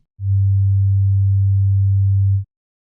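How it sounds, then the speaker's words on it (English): A steady, very low 100 hertz sine tone hums alone for about two seconds, then cuts off cleanly. "So that sound is vibrating at 100 times per second"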